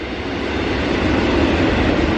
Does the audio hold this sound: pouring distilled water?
no